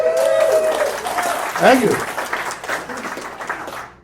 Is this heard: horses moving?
no